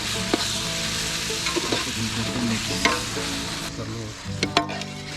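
Minced meat keema fries in a pot outdoors, a loud steady sizzle with frequent scraping stirs and light metallic knocks of a spoon against the pot.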